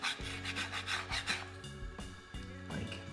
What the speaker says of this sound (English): where I'm having to scrape it to get off the egg